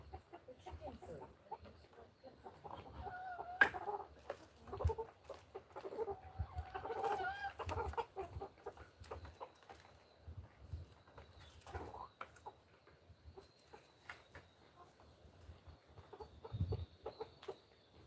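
Chickens on a farm cluck and murmur in soft, scattered bursts nearby, with faint thumps and rustling around them.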